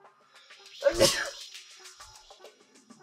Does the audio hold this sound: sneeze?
yes